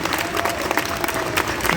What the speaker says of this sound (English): Give a massive round of applause to the amazing Ray Wise, ladies and gentlemen.